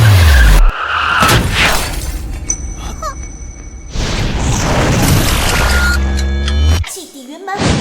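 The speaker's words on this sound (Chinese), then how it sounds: "快刹车！" A car skids under hard emergency braking, tires screeching loudly with a roaring engine and a crashing burst, while a voice shouts briefly over the chaos.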